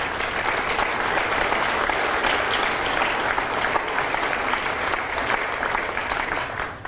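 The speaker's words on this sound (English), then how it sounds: "how about a round of applause for all those folks?" Crowd applause at the Levitt at the Falls ribbon-cutting ceremony outdoors, a full, even roar of many people clapping that holds steady for several seconds before easing slightly at the end.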